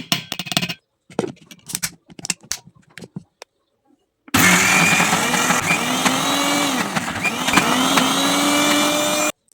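A mixer grinder whirring loudly as it blends prawns in a mixing jar, a steady motor drone starting abruptly after a few seconds of clinks and handling sounds and running to the end.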